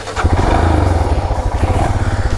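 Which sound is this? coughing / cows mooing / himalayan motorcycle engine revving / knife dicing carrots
himalayan motorcycle engine revving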